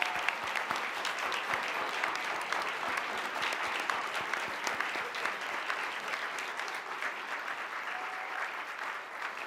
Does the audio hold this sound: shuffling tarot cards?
no